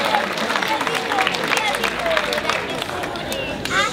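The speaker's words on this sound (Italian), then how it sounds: "Le facciamo un applauso." Church congregation applauding during a Marian month closing service honoring mothers, a dense, sustained patter of clapping filling the hall with some crowd murmur underneath.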